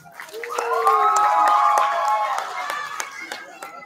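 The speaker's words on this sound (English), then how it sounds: "let's please give a giant round of applause for our amazing teachers" Audience at a HindiUSA cultural event in 2024 claps and cheers for the teachers, with scattered sharp claps under loud, sustained shouts and whoops from the crowd.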